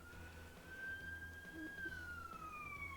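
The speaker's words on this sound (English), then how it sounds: "And I think you can hear the sirens." A wailing police siren in the Game Boy Advance game James Bond 007: Everything or Nothing rises and falls in pitch at moderate distance over a low engine rumble, with no talking.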